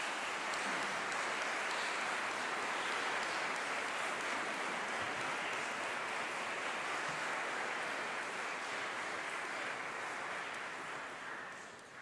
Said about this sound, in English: could you please give a round of applause for all those who have supported you.